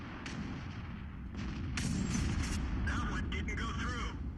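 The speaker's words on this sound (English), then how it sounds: "And I shot a heat shell at that AMX-50" In World of Tanks, a T49 tank fires a HEAT shell at an AMX-50, giving a sharp cannon boom amid other battle noise, with someone talking over it.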